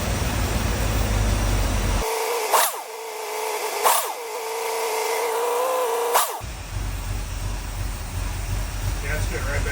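A crate V8 car engine idles close by with a steady droning rumble while its idle screw is adjusted. The speed shifts in a few sudden steps, and talk is heard before and after.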